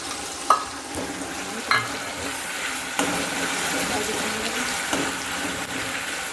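Onion paste for green tuvar thotha frying in a pan, a continuous close sizzle with a few sharp spoon taps and no talking.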